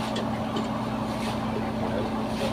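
A clothes dryer motor, just fitted with two new springs, runs with a steady close hum and broadband rumble, alone without talking.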